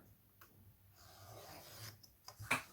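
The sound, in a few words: trimming canvas for a DIY stay wet palette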